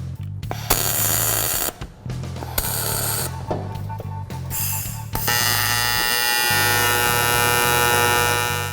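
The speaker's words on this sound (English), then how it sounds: "If I MIG weld tack it, I can hold it and keep it in place much easier." A MIG spool gun tack-welds a metal tool shelf with a series of short, loud buzzing bursts, followed by a sustained electrical hum.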